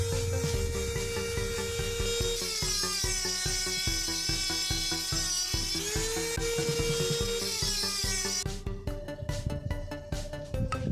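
A power tool whines steadily while cutting out the outer ring of an old control arm bushing on a Toyota Corolla AE111, a continuous high grinding tone that shifts pitch, then breaks into rough chattering near the end.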